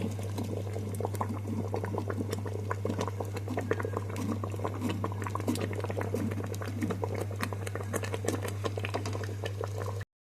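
Sabudana (sago) boiling in a covered pot, a steady close bubbling and popping that continues without pause over a constant low hum, with no one talking.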